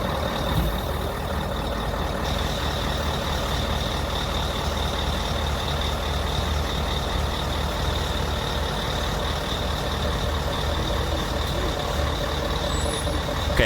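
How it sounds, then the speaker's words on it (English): Heavy-transport Mercedes diesel trucks labouring up a steep grade in Germany: a loud, steady low engine roar that drones on without a break, with a faint high whine and no voices. "Listen to those Mercedes diesels."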